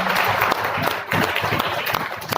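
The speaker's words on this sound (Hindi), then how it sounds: "ताली बजाओ यार एक बार" Audience applause at a ZENIQ seminar in Mount Abu, a short, loud burst of many hands clapping nearby, with a few faint voices mixed in.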